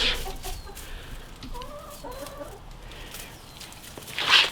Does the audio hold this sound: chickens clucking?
yes